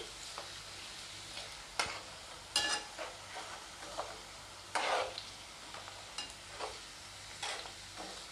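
Onion and curry leaves fry in hot oil, a steady low sizzle broken by several sharp clatters of stirring at irregular intervals, close by with no talk.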